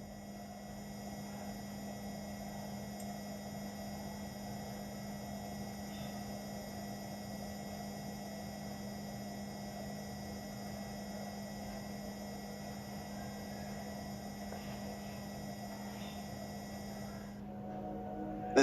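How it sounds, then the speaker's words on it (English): A NASA Mars rover's own steady, high-pitched whine runs unbroken throughout, with a faint breath of light Martian wind muffled underneath and a brief bump at the very end. "A little wind can be heard, but mainly we hear the high-pitched noise of the rover itself."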